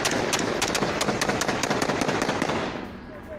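Rapid bursts of gunfire crackle in dense, irregular volleys during an ambush on a military convoy in Pakistan. The shots come loud and close, then thin out toward the end. A voice can be heard faintly underneath.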